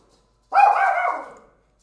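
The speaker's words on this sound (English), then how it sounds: "Oh, there's fireworks. That's why the dogs are barking." A single dog lets out one short, drawn-out bark-whine during fireworks, close and clear against an otherwise silent background.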